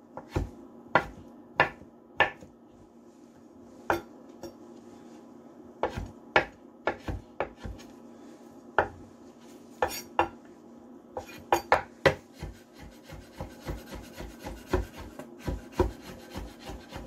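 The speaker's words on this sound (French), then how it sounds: "La quatrième étape, c'est tailler les légumes en brunoise." A knife dices carrots and celery into brunoise on a wooden board, producing sharp, irregular taps and chops, close and fairly loud, with a faint steady hum underneath and no talk.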